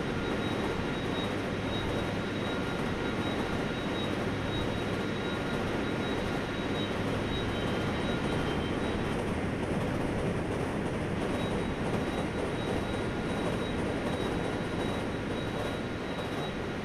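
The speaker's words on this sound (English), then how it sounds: "I would expect a bit of whoosh noise there as the train goes past us, but even without that, it's still really quite impressive, the audio" A Seoul Metro K1904 rapid express train in the Hmmsim game rolls past with a steady, dense rumble and a faint high whine, loud and continuous throughout.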